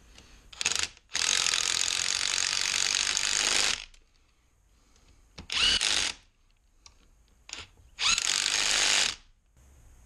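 A ratchet wrench bolts down an ATV differential in several bursts of rapid clicking, one long run and a few shorter ones. The clicks are close and loud with brief pauses between them and no talk.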